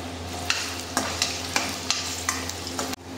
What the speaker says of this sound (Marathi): व्यवस्थित कांदा तळून घ्यायचा आहे